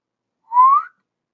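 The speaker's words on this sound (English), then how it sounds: "That's a whistle." A person whistles one short rising note, clear and close, alone in an otherwise silent moment.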